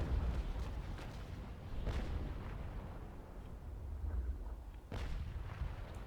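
Ship cannons fire a broadside in the naval sailing game Naval Action, heard as a sustained rumbling barrage of overlapping distant booms with a few sharper reports, muffled and fairly faint throughout.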